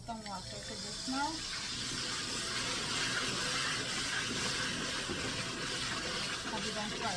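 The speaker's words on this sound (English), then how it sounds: "You're gonna add some water to this now." Water pours into a pot of fish curry with a steady gushing rush. It runs continuously for several seconds close by, with a voice briefly heard at the start.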